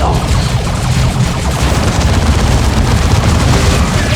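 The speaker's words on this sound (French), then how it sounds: "Attention aux tirs de véhicules" Vehicle gunfire in the Dawn of War 2 strategy game, a dense, continuous barrage of loud overlapping shots and blasts with no pause.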